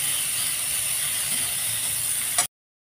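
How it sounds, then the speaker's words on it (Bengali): Bitter gourd pieces, coated with salt and turmeric, frying in hot oil in a wok, giving a steady bright sizzle that carries on evenly and then cuts off abruptly. "এবার উচ্ছেটাও ভেজে তুলে রাখবো"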